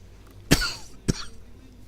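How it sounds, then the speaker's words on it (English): Two separate coughs, the second following about half a second after the first, close and fairly loud against a quiet room, with no talking in between. "Sorry about the coughing."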